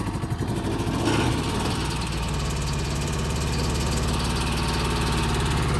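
A Rayco RG27 stump grinder's engine runs steadily at low throttle, a continuous close mechanical drone with a rough, vibrating rumble and no talking.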